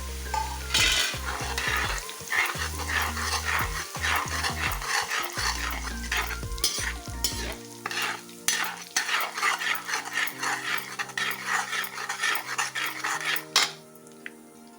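Curry leaves and chilies hit hot oil and splutter in a pan, with a metal spoon scraping and clinking as the spices are stirred and frying crackles on steadily.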